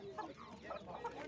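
Chickens cluck in short, close bursts at a poultry bazaar in Nookat, with a busy market murmur behind them and no clear talk.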